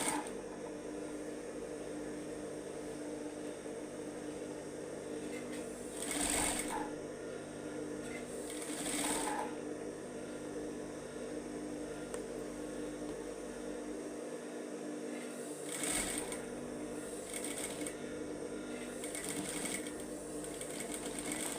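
A sewing machine set to a 2.5 stitch length sews a sleeve into a garment, humming and rattling steadily and close by for the whole stretch, with brief changes in the motor's tone.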